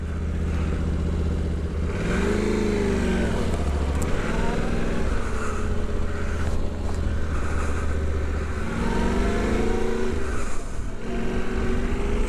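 A 2023 Yamaha Tenere 700 motorcycle engine rumbles nearby and surges in two clear throttle pulls, pitch climbing and dropping back to a steady run between them.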